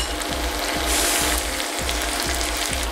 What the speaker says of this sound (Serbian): I dok se povrće prži